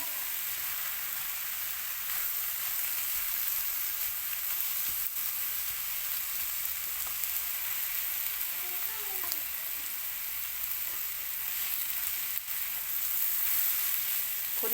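Jackfruit slices being stir-fried in a pan with curry paste, kaffir lime leaves and seasoning, giving a steady, close sizzle and hiss that runs throughout with no voices.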